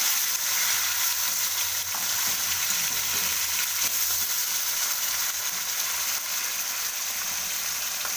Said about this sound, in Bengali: এভাবে সব মাছগুলো আমি হালকা করে ভেজে নেব।